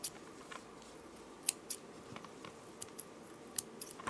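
Scissors snip through the cord ends of a handmade beaded men's bracelet, several short, sharp clicks spaced irregularly over a quiet background.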